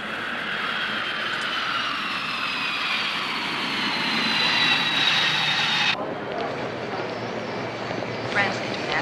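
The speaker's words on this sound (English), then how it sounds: "France International Flight number 48, Paris to New York City, now arriving at gate 14." A passenger airliner arriving at an airport gate produces a loud, sustained jet engine whine and roar that holds steady, then drops suddenly as the scene changes, with a voice talking over it.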